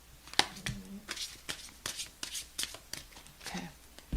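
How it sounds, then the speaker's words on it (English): A deck of tarot cards is shuffled by hand in quick, papery riffles and soft slaps, close and fairly quiet, with a few brief pauses between bursts. "Maddie, one more shuffle"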